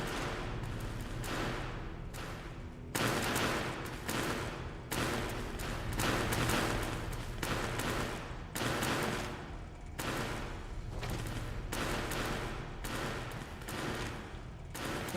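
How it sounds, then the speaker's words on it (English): Rapid laser pistol fire in a Fallout game, a steady stream of sharp zapping shots in quick succession, close and fairly loud, continuing throughout with little talk. "Laser pistol."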